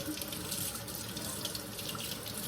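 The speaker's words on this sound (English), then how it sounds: "So I'm just rinsing these off as I go, just to get the soap off of it." A running kitchen tap pours steadily and close up as long, leafless pothos vine cuttings are rinsed of soap beneath it, a constant hissing flow with no talk.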